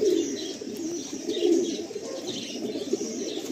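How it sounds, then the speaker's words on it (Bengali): Many pigeons cooing together in a loft of breeding birds, repeated low rolling calls from nearby birds layered over a steady murmur, with a few light chirps mixed in. "বাহ, প্রচুর পায়রা।"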